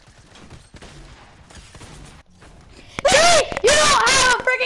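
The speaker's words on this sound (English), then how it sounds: "Combat shotgun to hit me eight times per second, do you now, huh?" Combat shotgun blasts in the Fortnite Zone Wars video game, a loud burst of rapid shots with ringing tails after a stretch of quieter game sound and faint talk.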